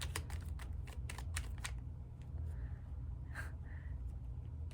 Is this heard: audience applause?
no